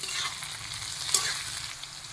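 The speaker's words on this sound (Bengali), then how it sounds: "এটা হালকা ভাজা হয়ে গেলে আমি সসটা দিয়ে দেবো।" Chicken pieces for chilli chicken fry lightly in a pan, giving a continuous close hiss and sizzle with stirring scrapes and one brief sharper crackle midway.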